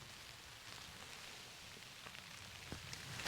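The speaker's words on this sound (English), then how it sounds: "plus it's raining" Rain falls outside in the Lake District, a soft, steady hiss of drops spread evenly and heard faintly from indoors, with no talking.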